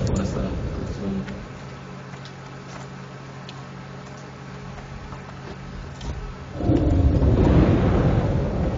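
Deep thunder in a Minecraft-style modded game rolls in low and steady, then swells into a loud, close rumble near the end, with players chatting over it.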